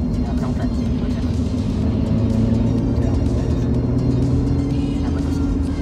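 A supercharged Lotus Evora S engine with a 6-speed gearbox hums and rumbles steadily from inside the cabin on the Autobahn, building slightly in pitch, with people talking over it.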